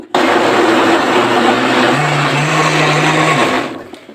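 A blender whirs loudly and steadily for a few seconds while making homemade yogurt, its motor pitch shifting slightly midway before it switches off.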